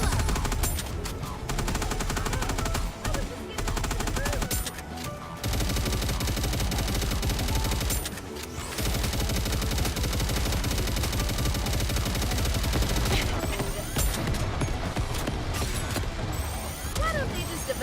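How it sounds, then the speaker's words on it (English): Guns fire continuously in the video game Goddess of Victory: dense, loud machine-gun bursts in long unbroken stretches, a few brief pauses between volleys, with voices talking over the gunfire. "Fire until your gun barrels melt."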